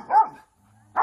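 A dog barks twice, close and loud, with a brief quiet gap between the two sharp barks and no other sound around them.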